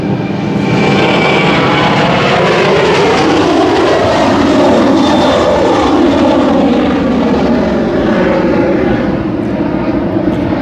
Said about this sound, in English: We could do something about this airplane noise.